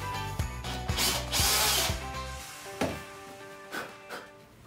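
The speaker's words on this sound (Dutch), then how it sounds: "Een boor. Daar gaatjes in van 3 tot 8 mm." A power drill bores holes of three to eight millimetres into a wooden block or tree section to make a bee hotel, loud whirring bursts with rhythmic ratcheting clicks that stop partway, leaving faint knocks and handling sounds close by.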